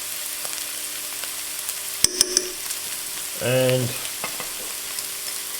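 Food browns and sizzles in a frying pan while Greek stuffed peppers are being made; a soft constant sizzle carries under a few sharp utensil clicks and a short hum, with a single spoken word.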